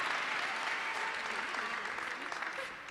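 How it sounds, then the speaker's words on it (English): An audience at a leadership school graduation ceremony applauds, a steady, dense wash of clapping that fades slightly toward the end. "Please give her a hand clap."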